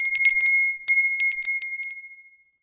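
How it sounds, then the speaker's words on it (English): A small hand bell rings in bright, jangling bursts, pausing briefly and ringing again before the tone fades out alone. "They don't hear, and my bell doesn't make enough noise."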